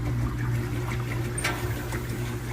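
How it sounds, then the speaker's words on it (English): Tap water runs steadily to soak an Adidas Deerupt shoe, giving a close, continuous splashing hiss with a few brief spatters and no voices. "turn the water on."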